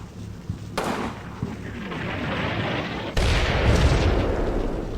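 Artillery fire for effect in the World War II video game Combat Mission Rome to Victory, heard as a loud, continuous rumble of shell blasts that swells sharply partway through.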